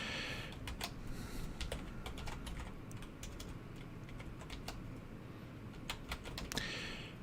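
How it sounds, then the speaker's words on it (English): Rapid, steady typing on a computer keyboard during a livestream, a dense run of clicking keystrokes heard fairly close, with no talking. "I've got a full keyboard here and I still can't type."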